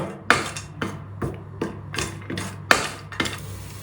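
Whole spices such as cinnamon, black cardamom and star anise frying in a pot for South Indian vegetable pulao, heard as a run of sharp clinks and taps from stirring against the pot over a low steady hum, with no talk.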